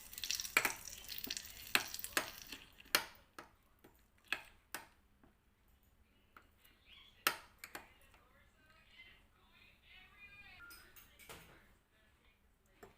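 Coconut chutney being stirred and mixed in a bowl, with a spoon giving a run of sharp clicks and scrapes against the sides, busy at first and then thinning into scattered taps and softer swishing.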